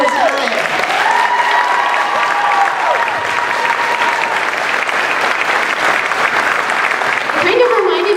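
An audience at a talent show claps steadily with hoots and hollers mixed in, loud and continuous, while voices call out over the noise.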